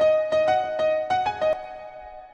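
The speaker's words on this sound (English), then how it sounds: "We're gonna use a piano instead, which originally sounds like this." Sampled piano in FL Studio, unfiltered, plays a short run of bright notes with clear attacks over a sustained tone, then rings out and decays into near silence.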